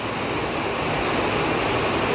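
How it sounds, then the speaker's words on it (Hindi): Torrential rain pouring onto a flooded road in a hill village, a constant loud hissing roar of water that stays even from start to finish, with no speech. "अभी अभी इतनी तेज़ बारिश आ गई है कि पूरा रोड पानी पानी हो गया है"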